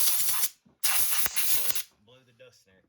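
An air hose blows dust off a trail camera in two loud, close hissing blasts, the second longer than the first, followed by a few quiet spoken words.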